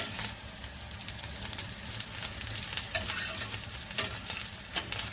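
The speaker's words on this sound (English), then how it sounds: "So you continue frying your kapenta" Oil sizzles steadily as small kapenta fish fry in a pan until golden brown, with occasional stirring scrapes and crackles over a constant frying hiss.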